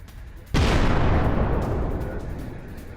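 A single loud explosion erupts after a brief quiet moment at the Parchin military complex near Tehran, then a heavy rumbling roar that slowly fades.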